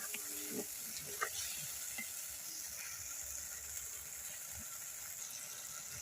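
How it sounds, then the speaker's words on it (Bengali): Masala for a giant prawn malai curry, with sour yogurt, nuts and mustard paste, is stir-fried in a pan, producing a steady soft sizzle and hiss with occasional faint stirring scrapes, close and fairly quiet. "আর এর ভেতরে আমি যেটা যে টক দই, বাদাম আর হচ্ছে সর্ষে করেছি সেটাও এর সাথে দিয়ে আমি এর সাথে একসাথে কষিয়ে নেবো।"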